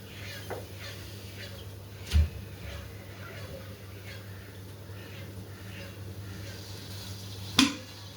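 A metal kadai is set down on a home kitchen stove after bitter gourd is moved aside, giving two sharp, separate clanks several seconds apart over a steady low hum.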